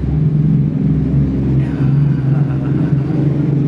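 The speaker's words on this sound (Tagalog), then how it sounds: "Patanin ko lang yung motor na maingay." A loud motorcycle passes close by during a busy town fiesta, its engine rumbling and droning steadily with a rising whine partway through.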